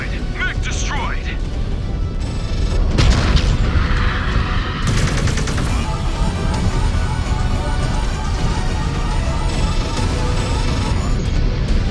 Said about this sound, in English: Mech destroyed! Mech destroyed!